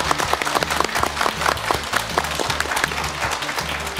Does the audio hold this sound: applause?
yes